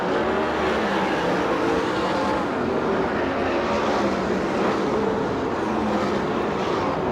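USAC/CRA sprint cars race around the Perris dirt oval, a dense, steady roar of engines at full throttle filling the whole stretch without a break, loud and continuous.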